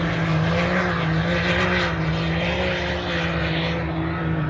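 A sand vehicle on paddle tires spins hard, its engine holding a loud, steady droning whine with a constant rushing roar throughout.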